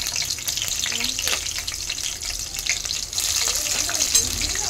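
Curry leaves and green chilies crackling in hot oil, a close, bright, continuous sizzle with scattered pops and stirring, no speech.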